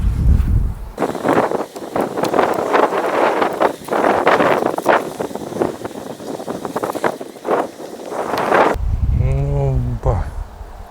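Wind gusts buffet the microphone outdoors beside a beehive during a hive inspection: a steady, rough roar that swells and dips for most of the stretch, with a short burst of voice near the end.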